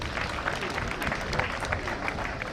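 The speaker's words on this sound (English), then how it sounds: "Shall we do a big round of applause?" An audience applauds at a ceremony receiving the first barrel of oil from the Jubilee Field at a refinery, with steady, dense clapping throughout and faint voices underneath.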